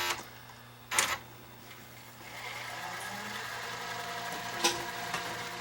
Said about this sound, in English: So when I press the high-speed rewind key here, we should see the tape unlace and rewind